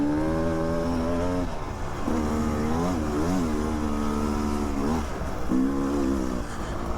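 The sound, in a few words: Beta 300 RR dirt bike riding on a trail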